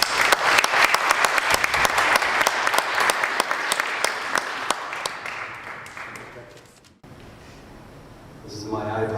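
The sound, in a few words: audience applause welcoming lecture speaker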